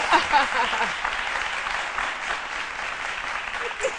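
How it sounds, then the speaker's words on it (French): Studio audience on a midday TV talk show breaks into applause, a steady crowd of hands clapping with a few brief louder bursts and a faint voice near the start. "On applaudit pour Alissa Arzena."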